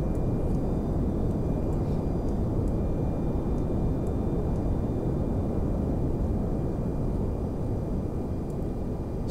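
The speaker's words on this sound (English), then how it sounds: "So it's a pretty slow takeoff." Steady roaring engine drone of an aircraft making a slow takeoff in Kerbal Space Program, loud and unbroken throughout with no pauses.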